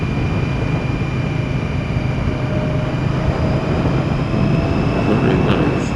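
A 2017 Victory Octane motorcycle engine drones steadily and loudly during a test ride, mixed with dense wind rush and a faint whine, with no clear rev swells.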